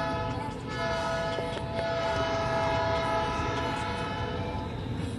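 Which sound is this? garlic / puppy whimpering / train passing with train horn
train passing with train horn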